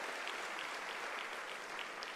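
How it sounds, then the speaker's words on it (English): A large audience at a school's academic-year opening ceremony applauds in a steady, dense wash of clapping, faint and distant, with no break. "I think we need to give another hand of applause."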